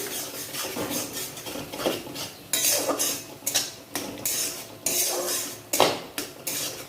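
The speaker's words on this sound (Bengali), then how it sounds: "এবার এটাকে ভালো করে কষিয়ে নিচ্ছি।" A metal spoon scrapes and clinks against a pan while vegetables and paneer with Kashmiri chili powder are stirred and fried, rhythmic repeated strokes with a faint sizzle underneath.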